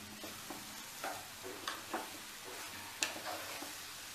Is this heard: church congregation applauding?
no